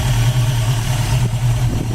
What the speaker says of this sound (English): Engine runs super smooth.